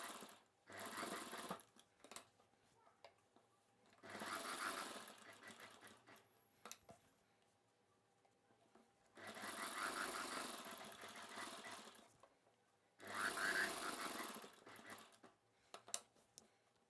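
A sewing machine stitches an umbrella dress in bursts of rapid whirring separated by quiet pauses, close and fairly soft.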